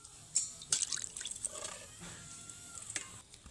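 Water poured into a simmering fish curry in a village kitchen, a few wet splashes and drips up close at first, then a quieter trickle and bubbling.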